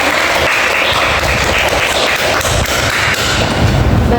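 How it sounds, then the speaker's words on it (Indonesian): Classroom applause for fellow students after a lesson on managing emotions: dense, steady clapping from a group nearby, filling the whole stretch with sharp overlapping claps and no talk. "mari kita beri tepuk tangan untuk teman-teman"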